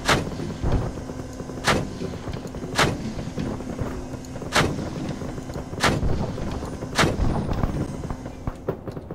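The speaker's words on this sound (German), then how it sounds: "Wir schlagen Granaten ein" Grenade impacts in the Arma 3 video game, a series of heavy booming blasts spaced a second or two apart over a constant rumble, loud and close, with no voices.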